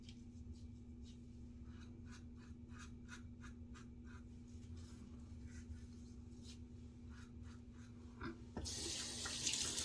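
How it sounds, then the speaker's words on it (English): A bathroom sink tap runs steadily, water splashing into the basin at low level with a constant hiss, a louder surge of flow near the end. "I'm leaving that sink running that whole time while I'm trying to do a little touch up."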